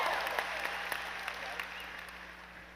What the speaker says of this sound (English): Give Mason a round of applause.